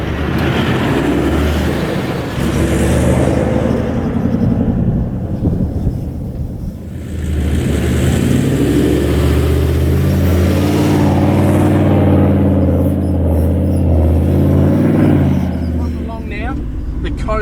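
A four-wheel-drive vehicle with lowered tyre pressure sets off onto a coastline, its engine rumbling steadily and loud throughout, with someone talking over it.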